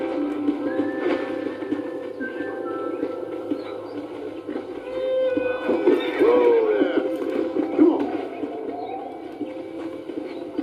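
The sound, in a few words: horse riding and hooves in video game Red Dead Redemption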